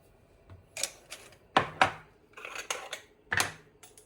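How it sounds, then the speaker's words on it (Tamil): Mustard seeds popping in hot oil for an egg curry, giving sharp, scattered crackles and pops in irregular bursts, close by and fairly quiet, with no talk. "இப்போ எண்ணெய் சூடாகி கடுகு வடிக்கிட்டுது"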